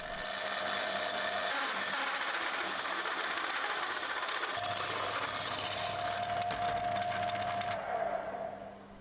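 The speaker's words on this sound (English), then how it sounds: "I'm going to get a hole saw into the drill and get that material removed" A power drill fitted with a hole saw bores a cutout through wood, giving a loud, steady grinding whine with a sustained tone that runs unbroken for about nine seconds, with no talking.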